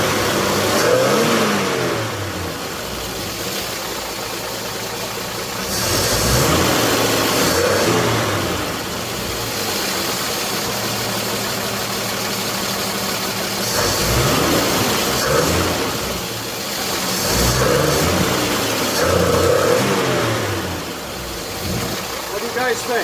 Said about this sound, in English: See if she'll start. Starts. Nice. But it stumbles all over itself.